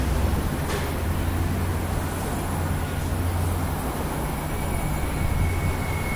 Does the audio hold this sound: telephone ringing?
no